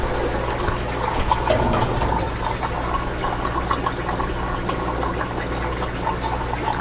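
Water pours steadily into a home aquarium fish tank during sponge filter cleaning, a continuous splashing, gurgling rush that stays loud and close throughout with no talking.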